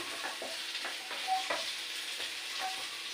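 Potatoes and spices fry in a pan for an eggplant, potato and fish curry. A steady close sizzle runs throughout, broken by the scrape of stirring, with no talk.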